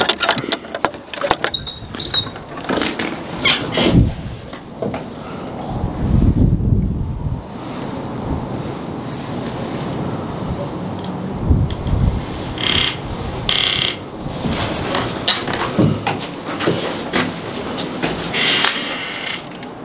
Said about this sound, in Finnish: Täällä on tuuli.